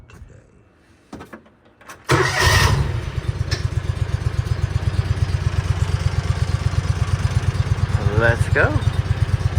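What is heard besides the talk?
motorcycle engine running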